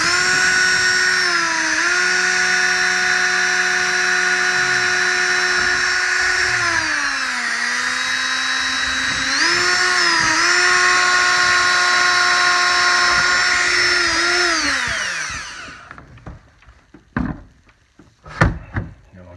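A power screwdriver whines steadily while driving screws to mount Kicker KM8 speakers in a boat. The motor's pitch dips and recovers as each screw tightens, then cuts out and leaves a few knocks and clicks of handling.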